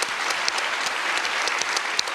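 Audience bursts into sustained applause for humanitarians, dense rapid clapping filling the room at an even level throughout.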